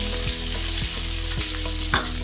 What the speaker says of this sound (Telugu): ఇప్పుడు మనం తరిగి పెట్టుకున్న ఉల్లిపాయలు వేద్దాం